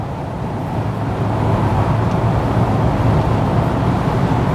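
A Mercedes-Benz SL320 R129 engine revs hard past 6000 rpm on the road, a loud steady drone with road roar that builds slightly and holds.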